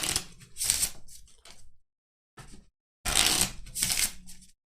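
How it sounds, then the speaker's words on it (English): KeyForge cards are shuffled by hand close up, several crisp riffling bursts separated by short pauses, with no talking. "I'll stop shuffling soon."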